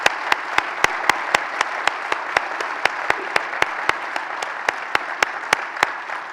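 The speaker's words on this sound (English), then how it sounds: "I want to conclude with a big round of applause for these two gentlemen." Steady audience applause at a transportation summit opening session, a dense wash of clapping with a few sharp louder claps standing out, sustained throughout at moderate loudness.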